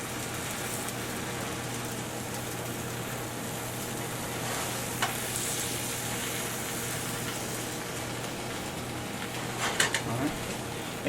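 A grilled cheese sandwich frying in a pan gives a steady, low hiss of sizzling that stays even throughout, with a steady hum under it and a few faint clicks and taps near the end.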